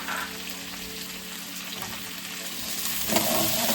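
Chopped carrots and peas frying in a pan for fried rice, a steady close sizzle and crackle that swells louder near the end, with no talk.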